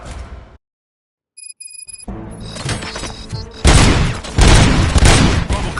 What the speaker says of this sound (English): Gunshots? What's going on?